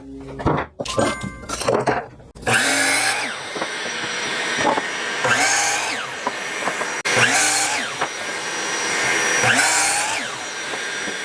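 A power saw cuts three short wood pieces for a Christmas tree-farm sign, each cut a loud, close whine rising and falling, with brief handling clatter at the start.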